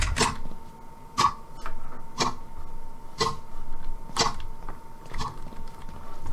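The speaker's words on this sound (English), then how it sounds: "It was a loud clicking, ticking." Loud, regular ticking of a clock in the video game Invention, with sharp clicks about once per second over a steady faint hum and no talk.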